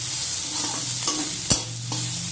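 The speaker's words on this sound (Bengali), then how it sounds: "করে ফেলছি ডিম আর বেগুন দিয়ে ভাজা" Egg and brinjal frying with potato, onion and green chilli, a steady sizzle in a pan with a few sharp spatula scrapes and knocks as the mixture is stirred, close and alone without talk.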